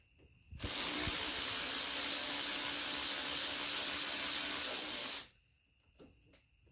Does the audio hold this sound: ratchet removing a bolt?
yes